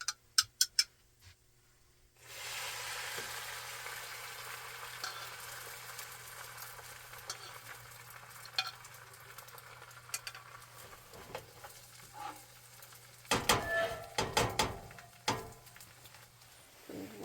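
Eggs sizzle steadily in a hot frying pan, a continuous close crackle that starts abruptly after a quiet moment, with a few sharp knocks and scrapes of a utensil near the end.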